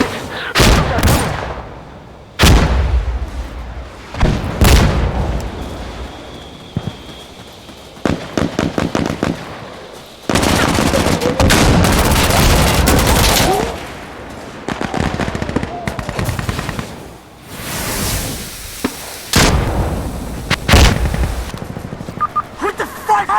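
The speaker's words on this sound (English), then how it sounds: "Fire the rockets! Fire the rockets right here! Just blow them the hell up!" Rocket strikes and gunfire in the video game Insurgency Sandstorm: loud explosive booms and rapid bursts of automatic fire in dense clusters, with shouted voices in between.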